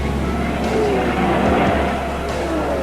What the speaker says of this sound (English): number 18, Tony Rose Jaguar, breaks the lap record and flashes past us into third place